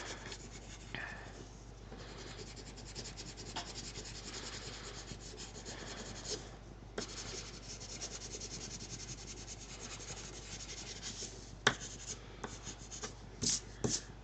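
Colored pencil shading back and forth over paper, a soft continuous scratchy rubbing heard up close and quiet, with a few brief sharper scrapes near the end and no talk.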